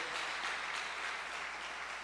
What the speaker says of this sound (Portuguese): aplauda Jesus pela vida do nosso pastor